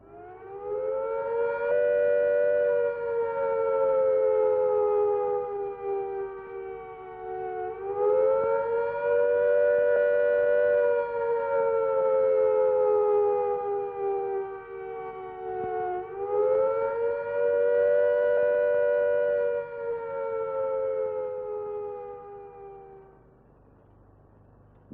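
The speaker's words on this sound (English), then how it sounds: "If an attack is expected, the sirens will sound a rising and falling note like this." Civil defence attack warning siren wailing with a rising and falling note, a loud sustained tone that swells and dips in three long cycles before fading at the end.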